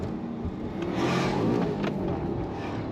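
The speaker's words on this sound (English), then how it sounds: "this thing sounds amazing with this Ferrari F136 engine in it." A Maserati GranTurismo with a Ferrari F136 engine hums and revs from inside the car, a steady low growl that swells slightly midway.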